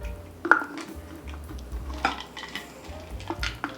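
Chocolate chips are stirred into a batter, giving soft scraping and the clink of a spoon against a bowl, with a few sharper knocks at irregular moments, near and fairly quiet.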